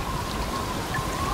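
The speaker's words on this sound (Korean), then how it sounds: "그날은 소나기가 내리고 있었다." A rain shower in the video game Blade & Soul pours as a dense, even hiss of falling drops, constant and fairly loud, with no speech.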